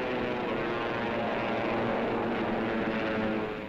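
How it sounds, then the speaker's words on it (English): P-51 Mustang fighter planes in flight during a 1944 air battle, a dense, steady propeller-engine roar that fills the whole stretch, loud and continuous with no talking. "The Mustangs drop wing tanks and plunge into the fight."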